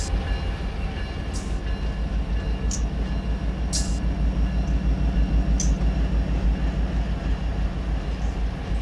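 A freight train in the Run8 Train Simulator rolls out of Barstow Yard, a steady low rumble of cars and engine that holds throughout, with a few brief high squeals or clanks standing out.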